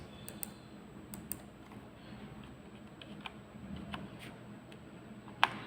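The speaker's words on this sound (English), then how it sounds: "I am typing" Soft, irregular keyboard clicks tapping away at a modest distance over a faint steady room hum, with one sharper keystroke near the end.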